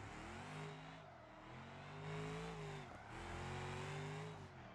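Car drifting with the handbrake in BeamNG.Drive, a steady loud engine roar whose pitch swells and dips as the throttle is worked through the slide, with no voices.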